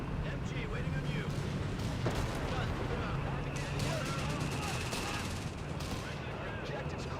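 Battlefield gunfire from the Company of Heroes war game, with rapid bursts of machine gun fire and scattered shots and blasts crackling over a dense, rumbling background of combat noise, some distant and some closer.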